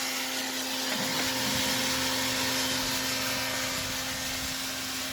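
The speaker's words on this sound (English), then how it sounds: "occasionally I'll turn this fan on and blow the chaff away" A small fan running on low to blow chaff away during a coffee roast gives a steady, close broadband whoosh with a constant hum, holding an even level throughout.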